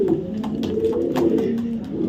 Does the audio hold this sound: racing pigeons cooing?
yes